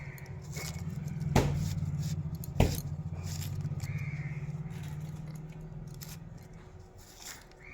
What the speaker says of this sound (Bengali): এবার আমি পেঁয়াজটা কুচিয়ে নেবো